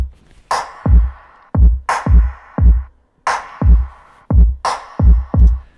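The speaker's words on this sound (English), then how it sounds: "kick and my snare and my drum kit in general, it sounds a bit like this." Soloed kick, snare and drum kit from a track play a punchy, steady groove of deep kick thumps and cracking snare hits repeating in a loud, close pattern with no voices.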